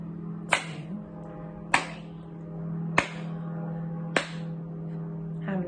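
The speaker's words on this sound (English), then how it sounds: "I clap, you count." Four sharp, evenly spaced hand claps about a second apart, followed by the start of a fifth, ring out over a steady background hum during a nursery counting lesson, with no one speaking.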